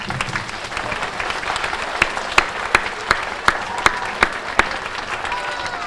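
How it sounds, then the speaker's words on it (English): An audience at an elementary school dedication applauds in a dense patter of clapping, with a few sharper, louder claps standing out in a steady beat near the end. "so let's give Jack a great round of applause."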